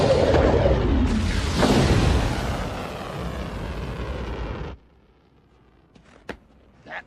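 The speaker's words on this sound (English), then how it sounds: "Launch the missile now!" A missile launch in a film scene roars as a loud, sustained blast with a rising rumble for several seconds, then cuts to near silence broken by a few faint, sharp sounds.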